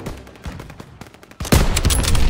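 Call of Duty WWII gunfire starts as scattered sharp shots, then bursts into a loud, dense barrage of rifles and machine guns halfway through.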